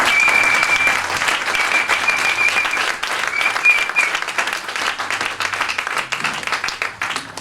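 A church congregation applauds the Lord with dense, sustained clapping that fills the whole stretch, loud and steady with no pauses.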